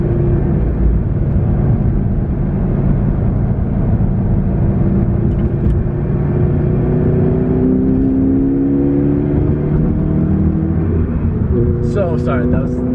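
A 2017 Subaru WRX STI accelerates hard up an on-ramp, its engine droning and rising steadily in pitch from inside the cabin, with a faint voice near the end.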